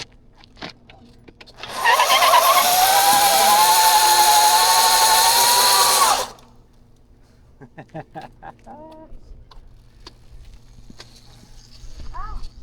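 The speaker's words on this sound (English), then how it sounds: "My guy just did his first burnout by himself." A motorcycle does a burnout in a parking lot, a loud sustained high-pitched engine wail with a wavering tone lasting about four seconds. Quieter rumbles and people talking come before and after it.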